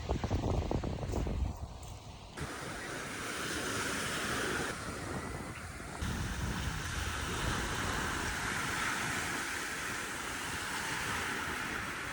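Strong wind buffets the microphone in a steady roar at the seaside, with rough surf rolling underneath throughout.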